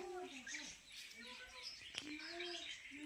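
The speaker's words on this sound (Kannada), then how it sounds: "ಇವು ಬಿಳಿ ಕಲರ್ ಗಿಳಿಗಳು" White parrots give bright, scratchy calls and chirps, one after another, fairly close at a zoological park near Hampi, with a voice murmuring faintly underneath.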